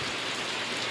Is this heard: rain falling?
yes